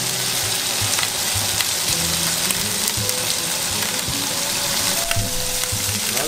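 Pieces of meat fry and caramelize in a hot pan, a loud, close, continuous sizzle with crackling spatter and no voices.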